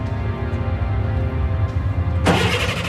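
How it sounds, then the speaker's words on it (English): A truck engine at a prison compound rumbles steadily at low pitch, then a sudden loud burst of noise breaks in near the end as the engine catches. "The truck's engine started."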